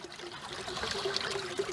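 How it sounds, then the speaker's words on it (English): Natural spring water trickles steadily out of a hillside, a continuous close, gentle babble with a bright splashing texture and no talking. "Water comes out of the hillside here."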